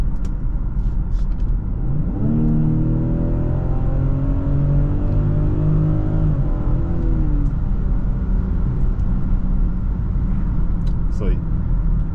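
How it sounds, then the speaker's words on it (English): A BMW X7 xDrive40i with a six-cylinder engine accelerates hard on kick-down from inside the cabin. The engine note climbs steadily, shifts and climbs again under steady road roar, with occasional speech. "All right, let's do a kick down."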